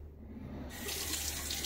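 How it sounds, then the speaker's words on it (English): Water from a tap gushes into a sink to rinse a shaving soap tin, starting softer and then swelling into a full, steady splashing stream. "I'm just going to rinse out the tin, the threads mainly on the outside of the tin"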